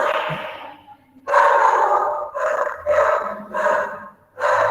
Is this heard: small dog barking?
yes